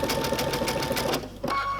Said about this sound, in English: and I'm going to start sewing again now.